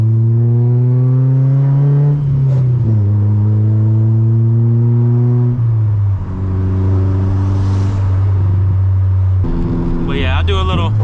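A 1990s Honda Accord with an H22 engine accelerates through the gears, its rising engine note dropping at each shift and climbing again, loud and close, ending in a higher rev near the finish.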